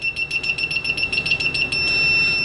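A Pro'sKit MT-2017N multimeter's continuity beeper sounds loud and shrill, pulsing in rapid beeps before holding a steady latched tone, close up with no talking.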